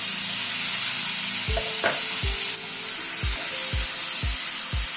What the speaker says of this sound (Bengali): টমেটোটাকে দিয়ে একটু নাড়াচাড়া করে নিচ্ছি